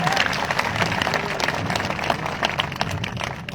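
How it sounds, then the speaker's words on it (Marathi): Crowd at a public gathering with Manoj Jarange Patil applauding, a steady dense wash of clapping with some murmuring voices underneath. "टाळ्या वाजा सर्वांनी."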